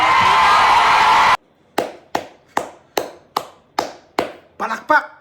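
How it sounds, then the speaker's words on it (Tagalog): A series of sharp, evenly spaced claps, about eight in a row, rings out close and loud after a burst of speech, with a couple of quicker overlapping claps at the end. "Palakpak!"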